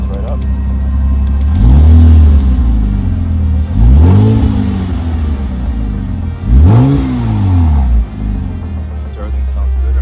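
A 2006 Porsche Boxster S with a 3.2-liter engine and over 100,000 miles, free of knock or ticking, idles loudly up close and is blipped through three distinct throttle revs, each rising and falling back to a steady rumble.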